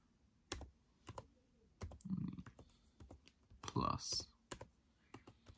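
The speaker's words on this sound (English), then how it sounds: "here you could go ahead and now type up Disney" Crisp key taps on a school Chromebook keyboard come in short irregular bursts and single presses, close and fairly quiet, with a few spoken words between them.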